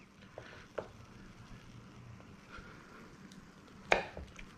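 A knife cutting slices from a block of low-moisture aged mozzarella on a board, a few soft, separate cuts with one sharper thump near the end, close and quiet with no talk.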